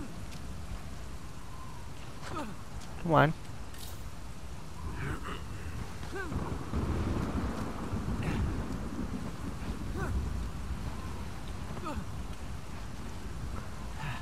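Tropical storm on an island in the video game Uncharted 4: steady rain and rumbling wind-like roar run throughout, with one brief louder swell near the start, while a voice speaks briefly over it.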